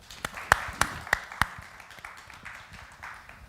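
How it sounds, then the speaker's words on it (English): An audience applauds with a handful of sharp, separate claps up front, then the clapping thins into scattered, fainter claps. "can we give them a round of applause if you don't mind?"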